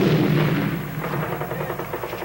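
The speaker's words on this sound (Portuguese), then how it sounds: "A artilharia francesa ataca guerreiros tradicionais quase sem armas." French artillery fires on traditional warriors in the Atlas Mountains in 1933, old archive sound carrying a dense run of rapid, muffled booms and cracks at moderate loudness.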